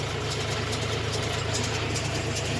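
John Deere 5050D 4x4 tractor engine idling nearby, a steady even diesel thrum with constant low rhythmic pulsing and no change in pace, heard alone without talk.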